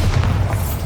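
A Bombarda blasting spell from Hogwarts Legacy goes off as one heavy, booming blast that holds a dense low rumble for just under a second.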